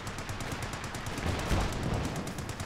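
Infantry support gun shells pounding down in Company of Heroes 2, heard as a fast, steady rattle of distant shots and impacts under a wash of battle noise, with a heavier thump midway.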